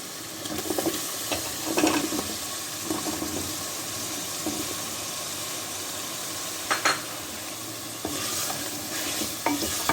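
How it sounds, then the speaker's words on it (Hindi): Potatoes frying in a pan with softened tomatoes and turmeric for palak aloo, sizzling continuously while a utensil scrapes and stirs in repeated bursts, close up with no talking. "आलू को मैंने भूनना है।"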